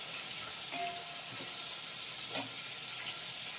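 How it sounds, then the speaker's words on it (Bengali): A fish head fries in a pan until crisp enough to crumble into rice, giving a steady soft sizzle with a couple of sharp spatters and clinks. "খুব মাছের মুড়োটা করে ভাজতে হবে, যাতে ওটাকে গুঁড়িয়ে দেওয়া যায় চালের মধ্যে"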